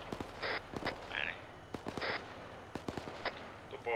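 Gunfire hitting the player's vehicle in a tank video game, scattered sharp metallic impacts and cracks at irregular intervals, fairly quiet, with brief radio-like voice bursts between hits.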